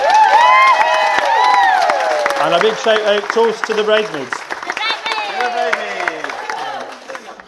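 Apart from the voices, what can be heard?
wedding guests applauding the bridesmaids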